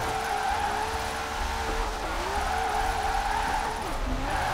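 Nissan S14 drifting in Forza Horizon 4, engine droning with rising and falling pitch and a sustained tire squeal as the car slides, steady and close throughout.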